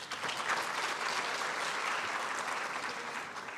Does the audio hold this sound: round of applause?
yes